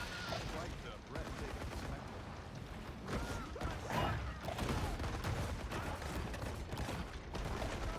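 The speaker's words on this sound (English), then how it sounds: "So now I got two people shooting at me." Rapid bursts of gunfire from people shooting in the Maneater video game fill the scene, a dense, continuous volley mixed with game noise and a voice talking over it.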